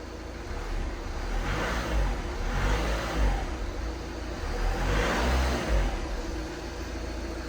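A turbo diesel Volkswagen SportWagen TDI salvage car engine runs close by, rumbling low and steady, with a few gentle swells in pitch as if lightly revved.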